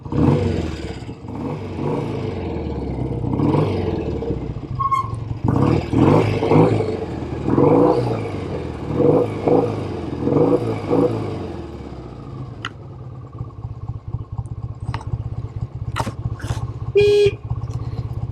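A 1967 BSA Spitfire Special MkIII classic motorcycle rides by with a loud, close engine that revs and rumbles in surges, then settles to a rough idle with a few sharp clicks and beeps near the end.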